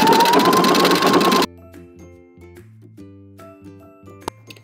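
Sewing machine stitching ribbon onto a thrifted sweater being turned into a cardigan, starting with a loud, dense mechanical whirr for about a second and a half, then stopping abruptly, leaving faint low hums and scattered soft clicks.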